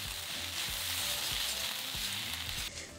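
Ginger, garlic and shrimp paste fry in a wok with a loud, constant sizzle, broken by regular scraping stir strokes close up, and no voices.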